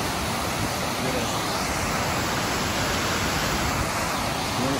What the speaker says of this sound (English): Now water might be overpowering my voice, but that's nature.